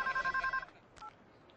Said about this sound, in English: the other phone is ringing